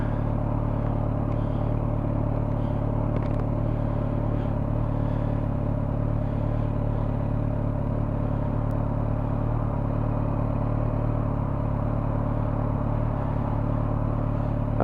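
A GTR motorcycle engine at speed gives a loud, steady drone with a strong low rumble that holds evenly for the whole stretch. There is no talking over it.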